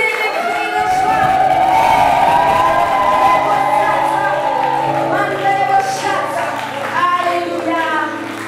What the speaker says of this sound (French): Est-ce que tu peux véritablement pousser les cris de joie?